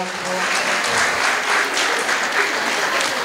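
Audience applause at a makeup fashion show, dense steady clapping from a crowd, loud and continuous throughout.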